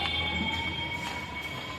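A metro train rumbles at a busy station, a steady rail-car drone with faint wheel hiss running through the whole short stretch, no voices over it.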